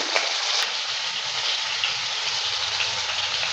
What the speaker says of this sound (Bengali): আলুটা দেওয়ার পর ভালো করে নেড়ে চেড়ে নিচ্ছে আলুটাকে হালকা একটু ভেজে নেব